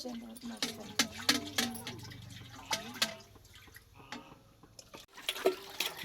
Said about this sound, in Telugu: నీళ్ళు వస్తుంది నల్ల చిన్నగా వస్తుంది